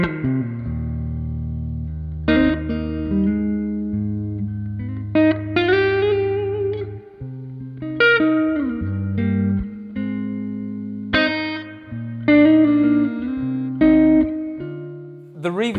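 Electric guitar through an Aynsley Lister Rift signature amp, playing sustained chords and single notes, with a lingering reverb tail from its unusual reverb circuit after each phrase; no talking.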